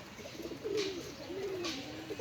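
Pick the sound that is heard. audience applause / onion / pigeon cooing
pigeon cooing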